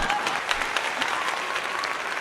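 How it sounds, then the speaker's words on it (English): A crowd applauds boxers after a fight, with dense, steady clapping and some cheering sustained throughout, fairly loud and even in level. "Round of applause for both of these warriors."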